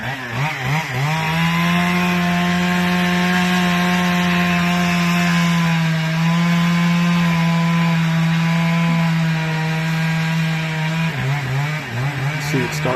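A chainsaw cuts down a tree. The engine holds a loud, steady, buzzing drone up close, with revs dipping briefly at the start and end of the cut.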